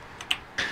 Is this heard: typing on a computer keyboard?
yes